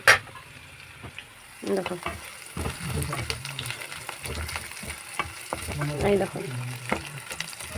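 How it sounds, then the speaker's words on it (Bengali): Chicken fries in a pan while being stirred, a continuous sizzle broken by scraping and utensil knocks, with someone speaking briefly over it. "আমি এমনি নাড়াচাড়া করছি"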